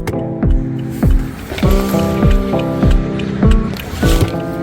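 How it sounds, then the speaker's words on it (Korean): Regular, rhythmic clicking of a Volvo truck turn signal, repeating about every half second over a faint background hum. "전 깜빡이 넣어봅니다"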